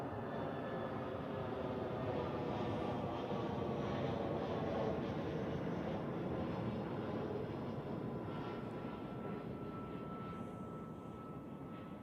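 At Zurich Airport, an airliner comes in to land, a steady broadband engine roar lasting throughout at moderate distance, with no voices.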